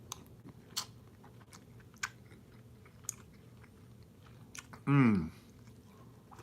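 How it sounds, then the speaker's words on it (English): Someone eats food with soft, sparse chewing and biting clicks close by, then gives a short murmur of enjoyment near the end. "I know you see me putting this shit in my big ass mouth."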